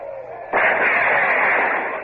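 A sudden cannon or gunfire blast in a battle scene from a Horatio Hornblower naval adventure drama, a loud boom erupting abruptly and rolling into a sustained, dense roar that fades slowly.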